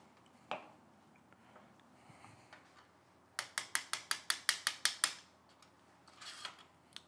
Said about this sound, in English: Unscrew that axle screw.